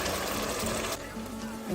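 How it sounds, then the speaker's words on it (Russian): Boiled water pours steadily into a cooking pot of lagman sauce, a continuous close gushing splash that briefly eases partway through. "Наливаю кипяченую воду."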